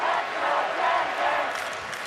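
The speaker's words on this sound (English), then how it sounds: "The classy UMD fans clapping as well here in Chicago" University of Minnesota Duluth hockey fans clapping in an arena in Chicago at the 2017 Frozen Four final, a broad crowd roar and applause washing through the hall, steady and distant-sounding.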